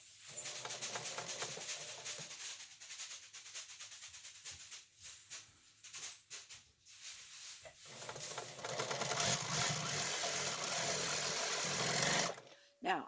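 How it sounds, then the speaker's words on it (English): A sewing machine stitches strips for a scrappy paper-pieced crazy quilt, its fast, close mechanical whirr running in bursts with short stops between them. "I'll continue sewing until I run out of strips."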